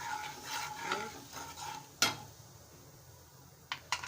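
Turmeric and chili powder stirred into fried curry leaves in a pan, with gentle scraping, a faint sizzle and a couple of sharp clinks of the spoon against the metal, quiet and without talk.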